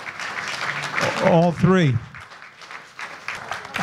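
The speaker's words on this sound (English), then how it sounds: "I'd like to give these guys a round of applause for just sharing their information and all that" An audience applauds panelists at a 48 Hour Film Project panel talk, a burst of clapping that is briefly interrupted by a short spoken phrase and then resumes.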